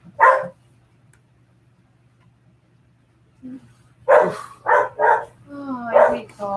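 A dog gives a few sharp, separate barks and yips, one alone at the start, then a quick cluster after a pause, close and fairly loud, with a steady low hum underneath.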